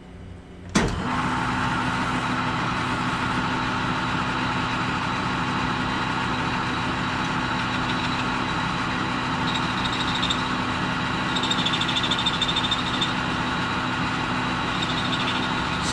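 A metal lathe turning down a piece of wood, likely lignum vitae, to a smaller diameter, giving a steady, loud mechanical hum with a constant tone that starts abruptly about a second in and runs throughout with no talk.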